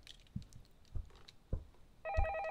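A telephone rings in the horror video game Shadow of Pharos, a bright trilling electronic ring bursting in near the end after a few soft thuds like footsteps in a quiet room.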